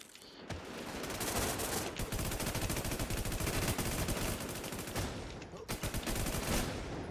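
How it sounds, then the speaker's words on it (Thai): Rapid, sustained bursts of automatic gunfire in the game WarZ, dense and continuous for several seconds with a brief pause near the end. "เสียงปืนแปลกเลย"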